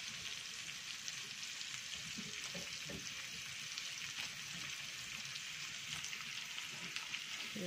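Shrimp fry in a hot pan for buttered garlic shrimp, a steady, even sizzle that holds for several seconds with a few soft stirring knocks beneath it.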